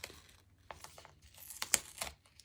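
Double-sided tape is handled and laid down at close range: quiet crinkles and short tearing rips come in scattered bursts against near silence.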